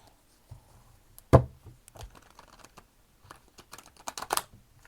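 Oracle cards being shuffled by hand, a series of soft, quick papery riffles and taps with one sharper slap, close and fairly quiet with no talking.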